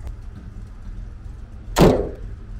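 The hood of a 1963 Chevrolet Corvair slams shut in one loud, close thud over a low idling engine rumble.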